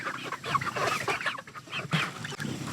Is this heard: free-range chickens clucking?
yes